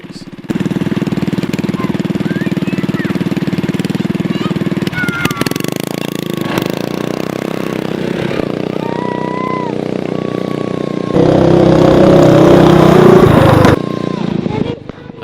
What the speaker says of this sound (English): my motor was really starting to act up